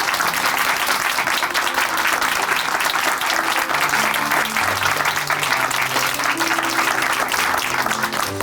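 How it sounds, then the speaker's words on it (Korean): An audience at a church testimony program applauds a speaker with steady, dense clapping throughout, loud and continuous, with no speech. "다시 한번 고종 형제님께 큰 박수 보내드릴게요."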